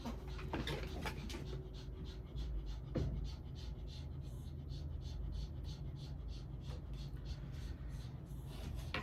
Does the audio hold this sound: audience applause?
no